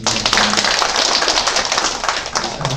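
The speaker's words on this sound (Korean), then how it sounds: "다시 한번 크게 박수해 주시기 바랍니다" A church congregation applauds together in a steady, dense patter of many hands, loud and close, sustained for the whole stretch with little talk over it.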